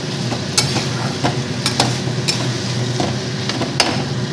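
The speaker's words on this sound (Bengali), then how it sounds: "আবার এগুলোকে একটু কষিয়ে নিয়ে তারপরে আমি রাইসটা দেবো।" Spices and boiled rajma are stir-fried in a pan, a loud close sizzle under sharp intermittent scrapes and taps of a spatula against the pan.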